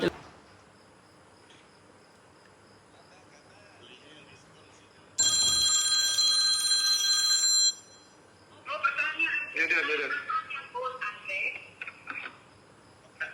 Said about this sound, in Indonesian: Aduh ya Jack, berarti telepon lagi Jack.